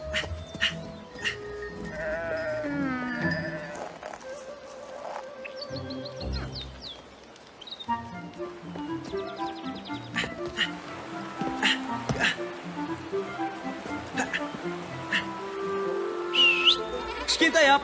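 Goats in a cartoon bleat repeatedly over a musical score, several calls overlapping at moderate loudness amid other farm-animal sounds, with background music throughout.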